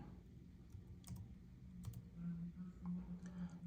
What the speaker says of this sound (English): And I'm just going to go ahead and type it in.